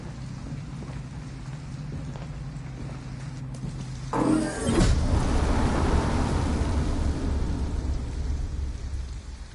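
Heavy rain pours steadily in the video game Detroit: Become Human, a low hum giving way around four seconds in to a louder, denser downpour that continues to the end, with no talk.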